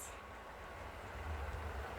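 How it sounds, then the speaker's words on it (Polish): Two trains pass at once near Warsaw, giving a low, heavy rumble with steady rolling noise that grows somewhat louder partway through, heard faintly from a distance without any talking. "Dwa pociągi na raz"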